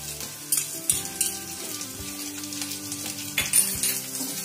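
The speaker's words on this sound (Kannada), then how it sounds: "ಹಸಿರು ಮೆಣಸಿನ್ಕಾಯಿ ಹಾಕೊಳ್ತಾ ಇದ್ದೀನಿ" Green chilies fry in a pan for momos, a moderate sizzle punctuated by several clinks and knocks of a utensil against the pan, close by and without talk.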